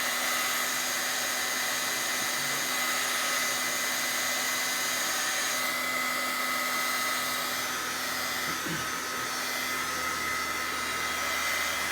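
A Darice heat gun runs steadily at close range, blowing hot air to dry colored paper, a continuous whooshing hum with a faint whine that holds level throughout, with no talk.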